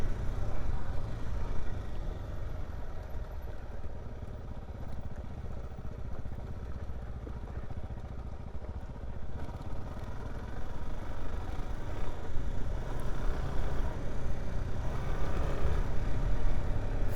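A Suzuki DR-Z4S dual-sport motorcycle engine drones steadily and close while the bike is ridden through the gears on a trail, rising slightly in level toward the end with no talk over it.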